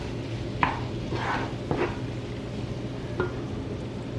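A spoon scrapes and stirs spices, including coriander powder, in a frying pan for a Bengali fish kalia. Soft sizzling runs throughout, with several separate metallic scrapes and clinks close to the microphone and no talking.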